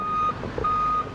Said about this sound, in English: It certainly smells and it's noisy too because of this truck that Pete's supervising.